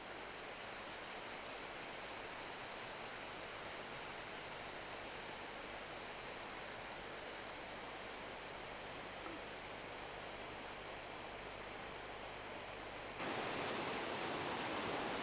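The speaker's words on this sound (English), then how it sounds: "The water way up there in the hills? Well, it all comes down here." Water from the hills runs down in a stream near Rest and Be Thankful in Scotland, a steady broadband rush heard alone, which turns louder and closer for the last two seconds.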